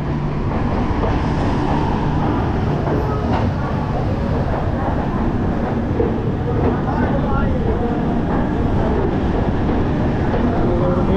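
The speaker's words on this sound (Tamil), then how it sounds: "தமிழ்நாட்டிலேயே ஓடுற அதிக தூரம் ஓடுற ஒரு ட்ரெயின் இது தாங்க." Jaipur SF Express sleeper-class train running between Coimbatore and Chennai, a steady loud rumble of wheels and carriage noise with rattling throughout, continuous and close as heard from on board.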